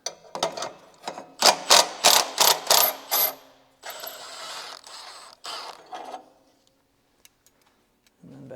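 A ratchet wrench loosens the 14 mm bolts on the exhaust mid pipe of an NC Miata: close, loud bursts of rapid pawl clicking in repeated strokes, then a longer, softer stretch of ratcheting that tapers to a few faint ticks and a thunk.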